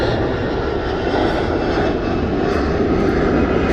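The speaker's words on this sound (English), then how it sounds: "that's another jet." A jet aircraft passes overhead, a loud, continuous roaring drone that holds steady throughout with no other sounds on top.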